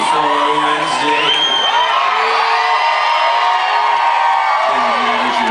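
Concert crowd at a Rock Boat IX show, a loud, steady wash of cheering, whoops and yells filling the whole stretch without a break.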